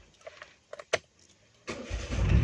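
A car fitted with a CNG-to-petrol switch makes a few faint clicks and rattles, then the engine cranks and catches into a loud, rough running rumble that holds to the end.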